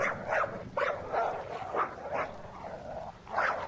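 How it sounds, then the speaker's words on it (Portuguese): A small dog barks repeatedly at a distance, several faint, irregularly spaced yips and barks rising over a quiet background, with no speech. "Os latidos eram de um cachorrinho que latia ao longe."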